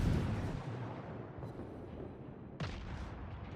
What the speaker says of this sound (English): The amount of shells an Atlanta can shoot is amazing.